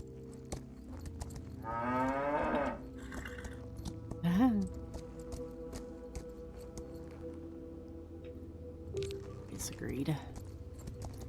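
Cattle mooing on a farm in the video game Equinox: Homecoming, a few drawn-out low moos rising and falling at moderate distance over a steady game ambience, with a speaking voice over parts.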